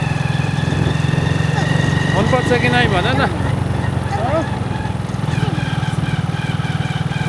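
A motorcycle engine idles steadily on a Nepal bike holiday, a constant low rumble running throughout while people talk over it.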